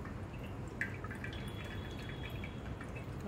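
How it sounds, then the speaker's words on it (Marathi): Excess whey dripping from curd tied up and hung to drain for homemade shrikhand: a few soft, sparse drips over a steady low background hum, heard alone with no talk. "ह्याच्यातलं जे काही एक्स्ट्रा पाणी असेल बघा खाली निघाले पाणी"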